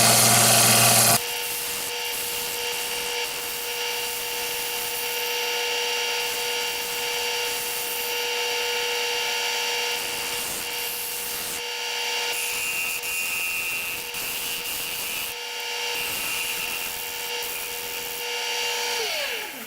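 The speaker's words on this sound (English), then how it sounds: "the bowl gouge gives me some nice cuts. I gotta go a little deeper here" Bowl gouge cutting into a spinning wooden bowl on a lathe, a continuous loud, close scraping and rasping over a steady motor hum, with slight shifts in pressure throughout and no talk.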